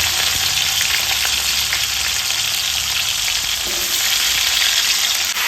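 Chopped bitter gourd and drumstick vegetables fry in oil, a loud, continuous close sizzle with faint stirring, no voices.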